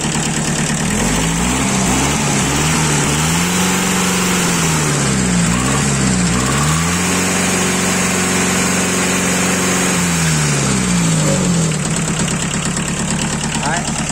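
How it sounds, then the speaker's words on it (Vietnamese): A used four-cylinder car engine runs loud and close, idling with a steady low drone that rises and falls as the revs change, with a voice talking over it. "Con này 4 máy nha bác. Máy em đang nổ luôn đấy."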